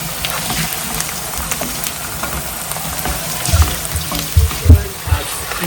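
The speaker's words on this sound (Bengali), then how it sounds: "এখানে হচ্ছে শুটকি গরম করে নিচ্ছি লাকির জন্য বিশেষ করে" Dried fish (shutki) heating in a pan, a soft continuous sizzle and crackle with several louder low knocks and scrapes toward the end, close by and without speech.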